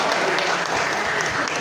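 An audience at a child singer's single-launch event claps in a dense, steady burst of applause that stays loud and even throughout.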